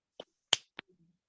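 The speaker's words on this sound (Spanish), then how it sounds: "Eso es un chasquido. Cuando tronamos dedos, eso es un chasquido." Three crisp finger snaps sound alone in a quiet room, spaced about a quarter second apart, with the middle snap the loudest.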